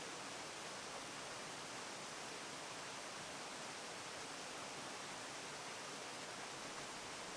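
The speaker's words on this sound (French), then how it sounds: "Et tu arrives devant la cascade." Steady broadband rush of a waterfall, even and continuous throughout, with no voices or other sounds over it.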